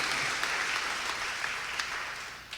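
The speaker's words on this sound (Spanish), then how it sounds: "dale un aplauso al Señor por eso." A church congregation applauds in a soft, continuous patter of many hands, somewhat distant, fading slightly toward the end with a few sharper claps standing out.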